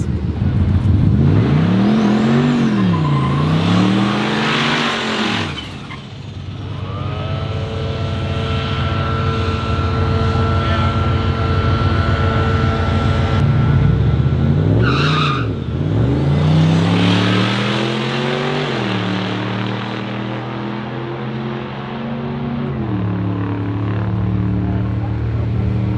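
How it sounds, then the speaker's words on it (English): A turbocharged Chevrolet Colorado pickup launches at a drag strip at Redwood Rally 2025, engine revving hard with rising and falling pitch as the tires spin, loud and close, followed by a sustained high-revving run and engine drone. "run number one, obviously, as you saw, spun immediately because I was giving it a little bit too much throttle right at the start"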